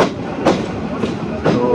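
Egarosindur Provati Express train rolling into Gachihata railway station, heard from on board: a steady rumble with three evenly spaced loud clacks of wheels over rail joints, close and continuous.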